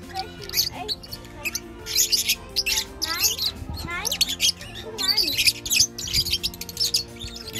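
Parrots at the Tierpark Herford zoo screech and chatter loudly in a dense, continuous chorus of squawks and whistles, with people talking nearby underneath.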